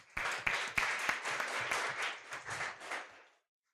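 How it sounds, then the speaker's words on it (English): Audience applause rings out at a youth and revolution event after a speaker is introduced, a dense, steady clapping from a crowd with a few sharp individual claps near the start, fading out over about three seconds. "Round of applause for him."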